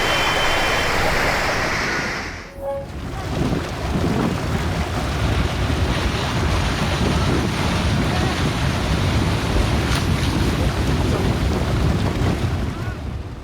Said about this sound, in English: Listen to that mud.